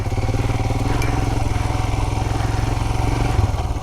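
A Royal Enfield Himalayan motorcycle with a Powertronic unit, ridden off-road, thumps along with a loud, close, evenly pulsing single-cylinder beat that holds steady throughout.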